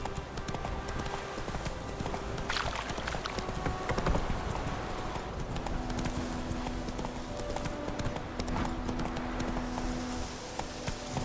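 A horse galloping in the video game The Witcher 3: Wild Hunt, its steady, fast clip-clop hoofbeats carrying throughout over a continuous game soundscape with faint tonal music.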